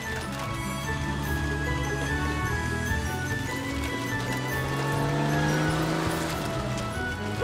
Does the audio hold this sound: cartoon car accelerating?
yes